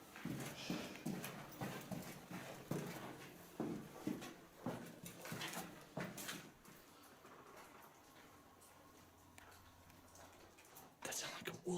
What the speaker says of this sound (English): That sounds like a wolf.